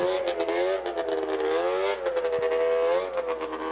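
A number 41 racing snowmobile at the International 500 crosses the finish line, its engine a loud, sustained high-pitched drone with wavering pitch, close and continuous.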